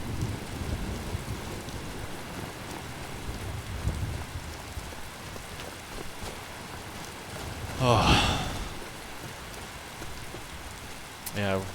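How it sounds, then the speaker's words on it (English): Steady rain patters across the ground in the fantasy game Skyrim, a soft continuous hiss beneath a brief louder splash and a short spoken exclamation. "we're starting to get damp from the rain"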